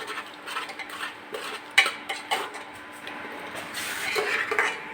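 A utensil stirs brinjal curry with onion and coriander in a pot, with scattered scraping and clinking taps against the metal at an uneven pace, fairly quiet and without talk.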